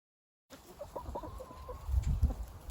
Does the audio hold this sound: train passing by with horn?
no